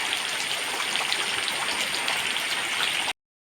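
Steady rain pours down near a farm garden, a dense continuous hiss of drops with no voices, holding an even loudness before cutting off abruptly.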